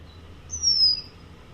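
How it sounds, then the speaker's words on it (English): A red-winged blackbird sings at a thawing wetland pond, giving one thin, high, drawn-out whistled trill that rises in level and then fades. It sits against a quiet background with no voices. "as you're listening to those red-winged blackbirds"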